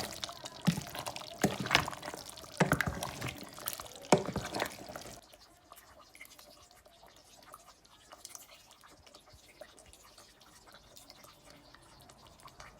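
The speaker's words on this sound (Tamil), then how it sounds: "இதற்கு தேவையான அளவு தேசி புளி சேர்த்துக்கொள்வோம்" Dissolved tamarind water poured into a meat curry, a few seconds of splashing liquid pours and drips followed by quiet faint bubbling and stirring.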